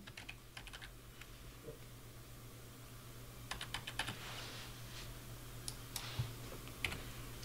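Fingers typing a username on a computer keyboard during a WordPress setup, soft close clicking keystrokes in irregular bursts with brief pauses over a quiet room hum, no talking.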